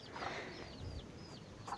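A young chicken, a guinea-hen type chick at a breeding farm, gives soft, faint clucks and chirps against a quiet background.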